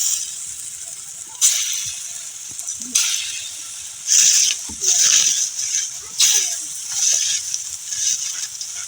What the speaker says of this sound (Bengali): তেলটা গরম হয়ে গেছে, এভাবে দিয়ে নিতে হবে ডালের বড়িগুলো।